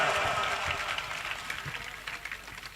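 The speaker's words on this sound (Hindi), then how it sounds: "आनो भी ताली बजार आप स्वागत कराओ" An audience at a Rajasthani comedy show in Merta breaks into applause, a dense patter of clapping that gradually thins, with a voice speaking over it.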